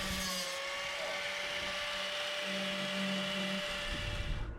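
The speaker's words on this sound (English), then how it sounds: "just chiseling away at me home" Steady, continuous scraping and grinding from chiseling rotten timber on a yacht under restoration, held at an even level throughout with a faint tonal hum underneath and no speech.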